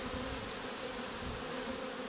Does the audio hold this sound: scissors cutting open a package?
no